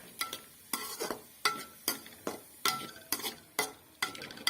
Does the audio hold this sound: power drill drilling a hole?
no